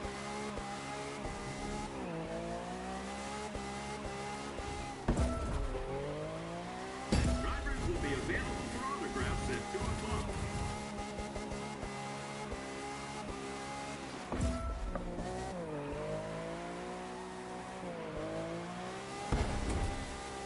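Lamborghini drifting in 4th gear in The Crew 2, a steady high-revving engine drone with shifting pitch sweeps and occasional bursts of tire noise, running continuously throughout.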